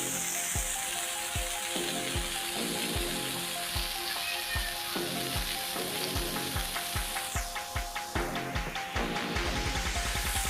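Smash burgers sizzle loudly on a Char-Griller Flat Iron griddle, a steady frying hiss broken by repeated sharp scraping and pressing knocks from a spatula, close and continuous with no talk.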